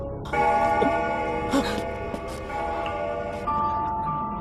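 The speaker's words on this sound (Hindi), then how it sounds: "ये तो सिर्फ एक घंटी है" A bell rings with a sustained, shimmering tone, struck a few times and ringing on with a synthetic quality, in the horror video game Corpse Party.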